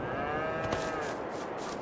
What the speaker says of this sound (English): we still only technically have 50 odd cows